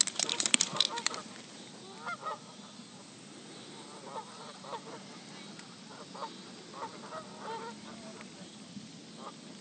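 Loud honking and quacking ducks at the start, then scattered calls continuing at a distance over steady rural outdoor ambience in Oklahoma.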